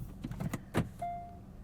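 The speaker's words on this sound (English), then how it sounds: "The front windows are one press auto up down" A 2021 Kia K5 EX front power window with one-press auto up/down is operated: a few soft clicks from the switch, then a brief steady motor whine starts, close and quiet inside the cabin.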